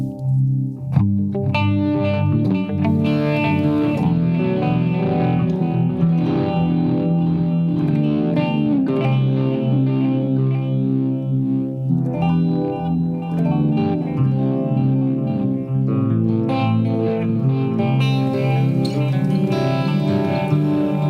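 Electric guitar played through a Line 6 Helix with a delay effect, sustained chords and notes trailing repeating echoes and reverb, thick and continuous without talk.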